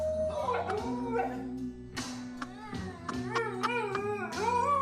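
A big dog howls in long, wavering, rising and falling tones, several drawn-out howls in a row with short breaks, fairly close and clear.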